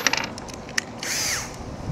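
A power drill runs on a smart table used for track saw work, a short whining burst near the end after a few small mechanical clicks and taps, close by with no talk.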